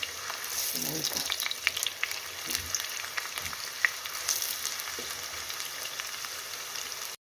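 Onion sizzles softly in oil in a roasting pan for borscht, with a continuous crackle and occasional light taps of a utensil, close and moderately quiet.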